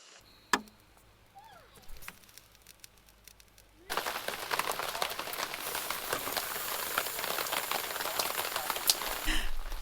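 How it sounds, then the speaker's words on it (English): Rain patters on a camp canopy and barbecue during a Yukon trip, starting with a few isolated drips and clicks, then bursting into a dense, steady hiss of rainfall close by. "the rain is busy trying to put out the barbecue"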